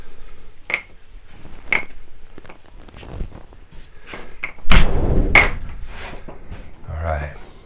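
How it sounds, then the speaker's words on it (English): A door is pushed shut in a darkroom set up for wet plate photography, a single loud thud landing near the middle amid quieter knocks and footsteps around the room. "and let's get the door closed"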